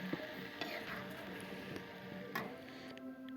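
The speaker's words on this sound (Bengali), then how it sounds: "এইভাবে শুধু মাছগুলো আলুর সাথে একসাথে এখন ভাজা ভাজা করে নেওয়া হবে" Fish and potatoes fry together in a pan with a steady, faint sizzle and occasional clinks and scrapes of stirring.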